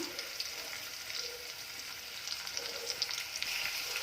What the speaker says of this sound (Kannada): ಎರಡು ಒಣಮೆಣಸಿನ್ಕಾಯಿ ಹಾಕಿ ಒಗ್ಗರಣೆ ಹಾಕೋಣ